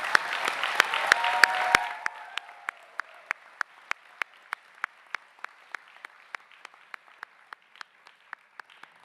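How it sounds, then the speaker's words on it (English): A brief round of applause at a university stole ceremony for graduates swells and then fades, leaving a slow run of scattered single claps that continue sparsely to the end. "Let's join me in a round of applause to thank all of them."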